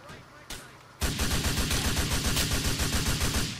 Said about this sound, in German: Kann ich das auch aus der Deckung schießen?